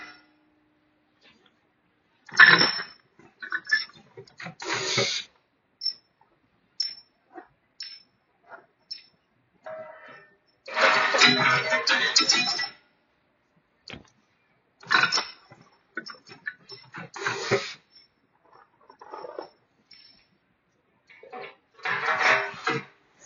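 A C295 semi-automatic weigh feed counter feeds 3/4 inch bolts in bursts of metallic clattering and rattling, separated by quiet gaps and small isolated clicks, fairly close.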